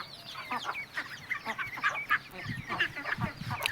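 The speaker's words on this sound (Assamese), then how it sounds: "ইয়াত মুৰ্গীৰ পোৱালি আছে" Hens and home-hatched chicks on a small farm kept with goats and ducks cluck and chirp nearby in a busy, irregular chorus of short calls, with no talking.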